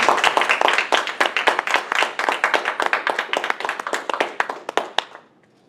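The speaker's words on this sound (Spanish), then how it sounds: "Yo quiero que le den un fuerte aplauso al Señor por ese gesto de intervención" A small church congregation clapping during a Spanish-language service, sharp individual hand claps close by, loosely rhythmic and sparse, stopping abruptly near the end.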